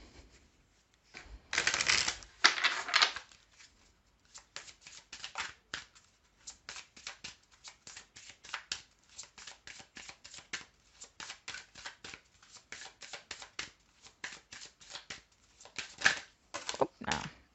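Oracle feeling cards are shuffled by hand at close range, with a louder riffle early on and then a long run of quick, light card flicks and slides, faint voice barely present.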